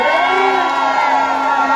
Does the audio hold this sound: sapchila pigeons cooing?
no